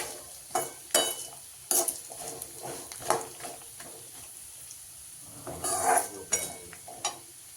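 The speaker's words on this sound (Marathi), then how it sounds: "आता हे मी सगळं भाजून घेणार आहे तेलात" A masala of coconut, peanuts, garlic and chilli roasts in oil, heard as a soft sizzle broken by repeated scraping, stirring strokes of a spoon against the pan, close by with no talk.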